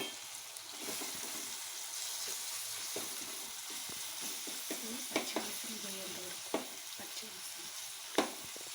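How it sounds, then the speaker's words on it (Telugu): Ginger garlic paste frying and being stirred in a pan for a brinjal and tomato curry, a steady soft sizzle with scattered spoon scrapes and clicks, close and alone. "అల్లం వెల్లుల్లి పేస్ట్ పచ్చివాసన పోయేంత వరకు కొంచెం ఫ్రై కానివ్వాలి"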